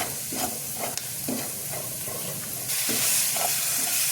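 Frankie masala being stirred into a vegetable mix frying in a pan, with a steady sizzle under repeated scraping strokes of a spoon, growing slightly louder near the end.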